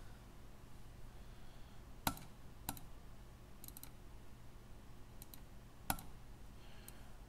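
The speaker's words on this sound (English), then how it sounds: "double click" A wireless computer mouse gives sharp, faint clicks, a few quick pairs spaced apart like double-clicks, in a quiet room with no talk.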